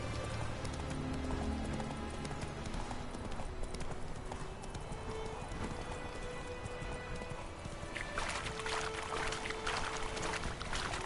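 Horse hooves clip-clop steadily along a trail in The Witcher 3, a continuous rhythmic trotting heard alone against a constant background wash.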